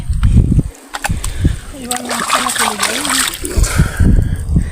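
Freshly caught river fish rinsed by hand in Sundarbans river water, with splashing and sloshing bursts around nearby voices and a child's sing-song call in the middle.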